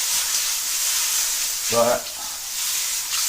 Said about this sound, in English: And begin to stir fry.